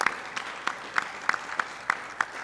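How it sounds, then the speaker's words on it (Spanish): Applause at a weekly school assembly for a first business forum: a faint, rhythmic run of separate claps at a steady pace, sounding like only a few hands, quiet and somewhat distant. "un aplauso al primer foro empresarial"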